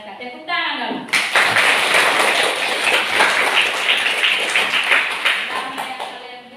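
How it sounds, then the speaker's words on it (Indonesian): A classroom of students claps together after a short role-play, the clapping bursting in after a brief spoken prompt and continuing as a dense, lively patter that gradually thins toward the end. "Tepuk tangan dong."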